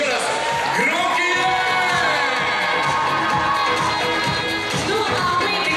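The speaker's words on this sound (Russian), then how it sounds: "Аплодисменты им еще раз. Громкие!" A crowd at a university Miss and Mister pageant cheers and whoops loudly with clapping mixed in, high excited shouts rising over a continuous roar of applause.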